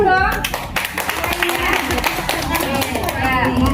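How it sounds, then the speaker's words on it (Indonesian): A group claps hands during a classroom-style game activity, the claps blending into a busy wash of children's voices, movement and chatter that runs throughout, with no single clean burst of applause standing out. "Kita kasih tepuk tangan dulu dong"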